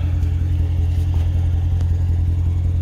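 Engine of a car idling with a steady low rumble, heard alone and close as it is reversed onto a car transporter truck.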